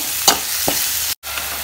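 A banana flower stir-fry with egg is mixed in a hot pan, producing a couple of brief spatula scrapes over a low, steady sizzle that cuts out for a moment.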